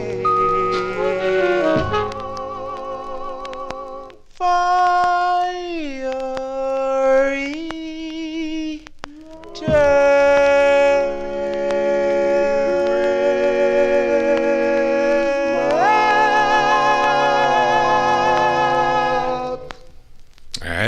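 Vintage vinyl record of a doo-wop ballad, with sustained vocal harmonies over a slow backing, steady and continuous for the whole stretch, with no talking over it.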